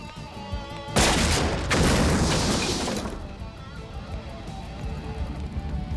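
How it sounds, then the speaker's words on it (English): A Sonic Boom attack in a Street Fighter cartoon bursts in as a loud whooshing blast after a short lead-in. A second surge follows, then the sound fades into a rumbling tail under music. "Sonic boom!"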